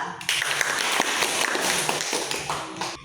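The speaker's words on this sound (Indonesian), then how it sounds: "beri tepuk tangan dulu kepada kelompok 1 Bella" A classroom of students claps for a group, a dense burst of fairly close hand claps that carries on steadily for a few seconds.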